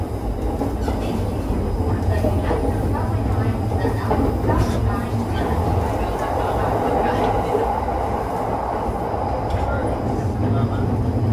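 A train pulls into a station in Japan, its loud, steady rumble and rolling clatter filling the space while voices chatter nearby.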